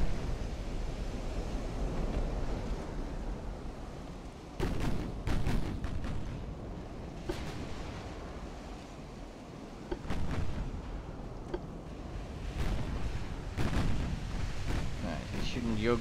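Heavy naval guns boom from warships in an Italian Empire naval campaign game, with several loud, deep blasts arriving in scattered bursts over a constant roar of sea and wind.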